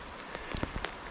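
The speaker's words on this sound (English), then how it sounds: "out in the forest and it's pouring down rain" Rain pours down in a forest, a faint steady patter with a few sharper drops striking close by, with no voices.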